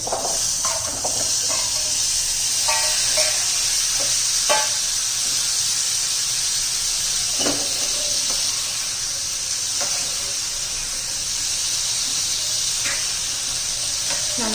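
Kabuli chana tossed in a hot pan with chaat masala, green chillies and salt for banana katori chaat gives a steady close sizzle, with faint scraping stirs breaking through now and then.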